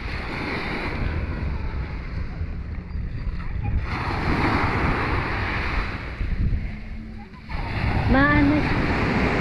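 Sea surf at a beach in Santa Ana, a continuous roar of waves mixed with heavy wind buffeting the microphone, with voices faintly in the background.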